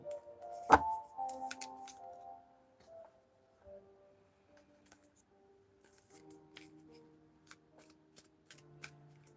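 Tarot cards are shuffled and handled near the microphone, giving a sharp riffle at the start followed by scattered soft snaps, taps and slides, all quiet with no talking.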